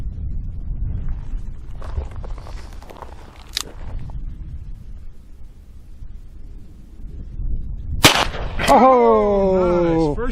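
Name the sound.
Rock Island .38 Special revolver gunshot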